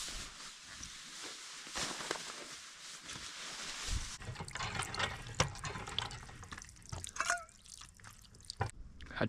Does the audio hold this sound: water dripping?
yes